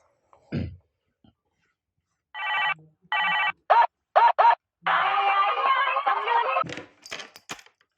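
A telephone rings in short repeated bursts while a customer service line is called, followed by a longer tonal ringing passage and a few clicks, close and clear against an otherwise silent room.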